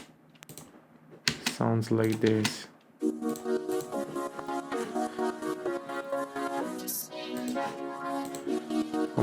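In FL Studio, a synth runs through a vocoder effect, producing a choppy, robotic-sounding chordal pattern with a steady stuttering rhythm, and a voice talks briefly at the start.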